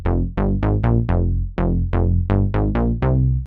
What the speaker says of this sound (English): Bass Explaining is this warm, analog sounding saw bass, which sounds something like this.